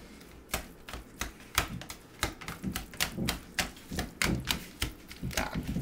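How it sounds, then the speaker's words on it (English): Tofu being pummelled with a whisk produces a rapid series of sharp, close tapping clicks in an uneven rhythm, about a dozen strikes over several seconds, with no talking. "I'm going to pummel it with my whisk."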